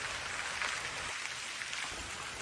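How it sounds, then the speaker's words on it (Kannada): Soft, steady hiss of a sun-shower falling outside, fairly faint and even throughout. "ಬಿಸಿಲು ಮಳೆ ಬಿಸಿಲು ಮಳೆ ನೋಡಿ ಬಿಸಿಲು"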